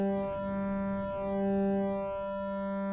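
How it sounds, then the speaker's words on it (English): Flamingo synthesizer module on a patch lab, a steady harmonic tone whose low fundamental swells and fades in slow waves as a control voltage sweeps, sounding alone at moderate level. "you can hear that fundamental kind of bobbing in and out as the control voltage sweeps through the Mm -hmm. The threshold"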